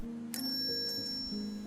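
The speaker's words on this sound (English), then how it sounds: "When I drop the bearing onto the bell, it rings nicely." A small metal bearing drops onto a bell taken from a tea-reminder mechanism, giving one clear, bright ding that rings on in a sustained tone over a quiet indoor background.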